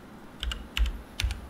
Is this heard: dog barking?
no